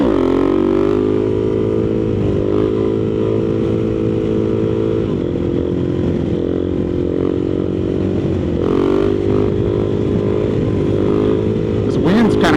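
A motorcycle on an open road downshifting to third gear, its engine droning loud and close with pitch shifts as the revs change and wind noise over it, while a rider talks throughout.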